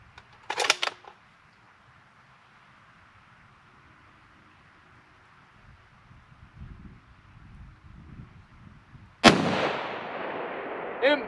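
Rifle shots ring out on a shooting competition stage outdoors: one sharp report near the start, then wind and rustling, and a second loud crack with a long echoing decay near the end.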